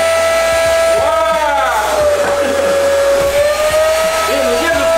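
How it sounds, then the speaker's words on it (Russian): A powerful construction vacuum cleaner runs with a loud, continuous motor whine whose pitch sags and shifts under load, with muffled voices faintly underneath. "это же строительный пылесос"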